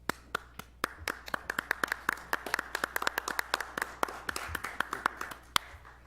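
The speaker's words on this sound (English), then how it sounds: "I'd like to stand up and give him a round of applause." A small group at a park board meeting gives a round of applause, sparse separate claps that quicken into an uneven patter over about six seconds, fairly close and with no talking.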